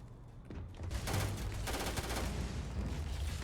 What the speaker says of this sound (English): who is still shooting at me?